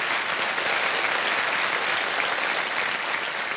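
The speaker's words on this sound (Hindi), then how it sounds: "जरा जोरदार तालियां बज जाए उनके लिए।" Studio audience on a Kaun Banega Crorepati quiz show breaks into loud, dense, sustained applause that fills the room evenly throughout.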